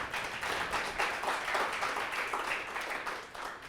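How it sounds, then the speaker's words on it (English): Clapping from an audience at an awards presentation, a steady wash of many hands at moderate, fairly soft level throughout, without a voice over it. "Clap, clap, clap."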